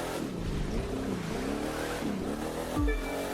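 Corvette engine in The Crew 2 racing game revving hard and accelerating, pitch climbing and falling through gear changes, with a brief tire squeal or skid near the end; loud and steady, no voices.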